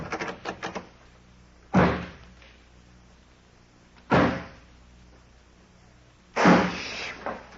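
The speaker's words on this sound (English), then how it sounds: "I'll lock this door on the outside." Door sound effect for an old-time radio crime drama: three separate heavy thunks spaced a couple of seconds apart, a door being shut and locked from the outside, after a short rattle of smaller knocks at the start, with no talk.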